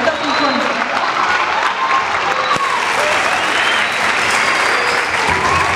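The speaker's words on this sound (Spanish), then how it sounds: "un fuerte aplauso para todos los alumnos de Compás de la Orquesta Sinfónica" Loud, sustained audience applause in a theatre for students of a symphony orchestra, dense clapping throughout with voices and cheers mixed underneath.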